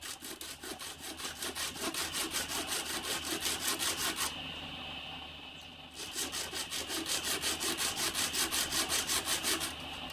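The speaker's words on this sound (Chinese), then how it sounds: "我等一下把邊框也磨一下" Sponge sandpaper rubbing a metal ring bezel for a chalcedony shadowbox ring: fast, rhythmic back-and-forth scratching strokes, close and steady, with a short pause midway before the sanding resumes.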